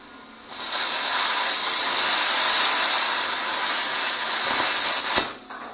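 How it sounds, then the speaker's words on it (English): A plasma cutter running on compressed air slices through metal with a steady, loud hiss that holds for about five seconds before cutting off abruptly. "the advantage of the plasma cutter over the torch is plasma cutter doesn't require any gas"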